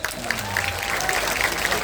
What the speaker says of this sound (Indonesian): tepuk tangan pendeta Gilbert